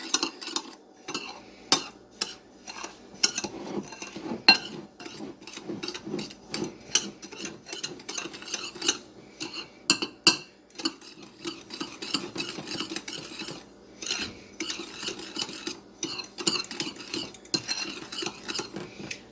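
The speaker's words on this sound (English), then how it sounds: "I have 2/3 of a cup of regular white sugar here and 2 teaspoons of cinnamon, and I'm going to mix that up" White sugar and cinnamon mixed in a bowl for Amish cinnamon bread: quick, close, rhythmic scraping and tapping of a utensil against the bowl, continuing steadily without talk.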